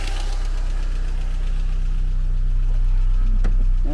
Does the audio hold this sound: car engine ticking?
yes